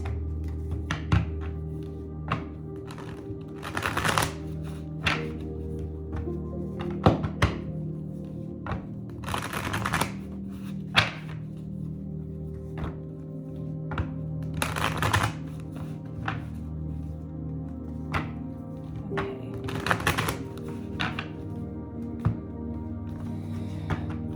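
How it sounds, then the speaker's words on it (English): Repeated crisp riffles of a card deck being shuffled, sharp bursts every few seconds over a steady low hum, no talking. "Shuffle the cards before we begin with group 3."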